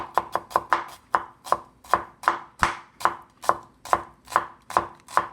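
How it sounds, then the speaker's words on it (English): A knife chops an onion on a cutting board for ravioli with cherry tomatoes, giving about sixteen crisp, evenly spaced strokes in a steady rhythm, close and loud with no talking. "Okay, and start chopping that too."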